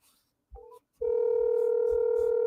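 A telephone places a call during a group phone line session: a short electronic beep, a brief pause, then a steady, sustained line tone, with faint low rumbles underneath.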